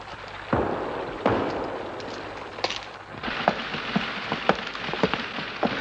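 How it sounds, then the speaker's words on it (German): Steady rain falls in a wartime film scene, a dense, even hiss of water on surfaces, broken by scattered sharp drips and pops throughout. No voices. "Es hat wieder zu regnen angefangen. Nicht heftig, aber es regnet."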